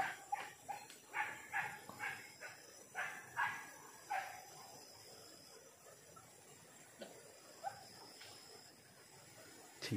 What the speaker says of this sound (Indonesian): Kita lihat binatang apa yang mereka gonggong ini teman-teman.